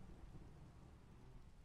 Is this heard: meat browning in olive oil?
no